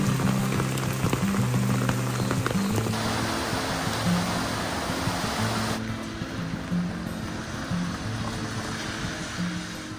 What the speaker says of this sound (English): watched the rain continue to do its thing